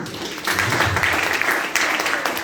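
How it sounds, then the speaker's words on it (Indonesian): Audience at a legal outreach seminar breaking into applause, a short burst of clapping that swells quickly and carries on at a moderate level, with a voice faintly underneath. "Boleh beri tepuk tangan ke beliau."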